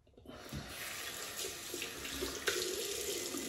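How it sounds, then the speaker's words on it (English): Water from a shaving brush soaking vessel being emptied into a sink, a steady close pour that runs continuously for several seconds with a brief louder splash near the end, no talking. "empty the vessel that we soaked the brush in"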